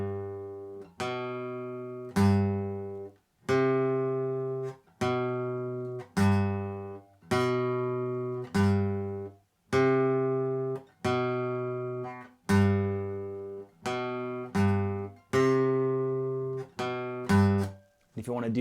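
An acoustic guitar plays a slow single-note melody, each plucked note ringing clearly and decaying before the next, about a dozen notes in an even, unhurried rhythm.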